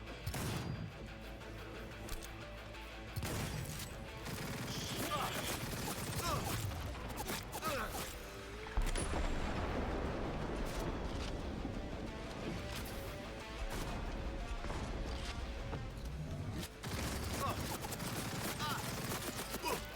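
Gunfire and crashing action from the video game Cyberpunk 2077 Phantom Liberty rattle on continuously in dense bursts, with a voice talking over the game sounds.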